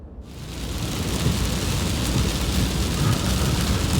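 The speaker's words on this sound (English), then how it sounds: "it has done nothing but rain just like this for the past hour" Heavy rain pours down in a dense, steady hiss with a low rumble underneath, swelling slightly louder after the first second and staying constant.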